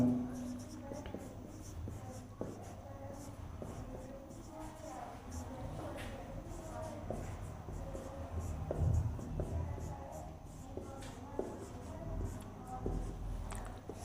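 Pen scratching on paper while working a calendar reasoning problem, soft intermittent strokes heard close over quiet room tone, with faint speech-like murmurs at moments.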